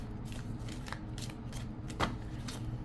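A deck of tarot cards being shuffled by hand during a reading: quiet, rapid riffling and flicking in short repeated bursts, close and alone.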